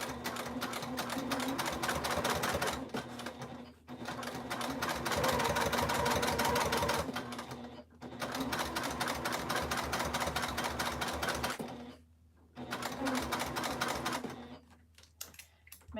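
A domestic sewing machine stitches a fabric Willow Wristlet in long, steady motor-driven runs with rapid needle clatter, pausing briefly between seams, close and fairly loud with no talk.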